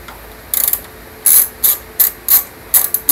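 A hand ratchet works loose car headlight bolts in a tight spot, close and loud, giving a series of short sharp clicking bursts in irregular strokes with brief pauses between them.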